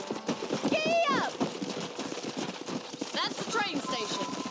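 Galloping horse hooves in Red Dead Redemption 2 drum in a quick, steady clip-clop rhythm close by, running beneath a voice and character dialogue throughout.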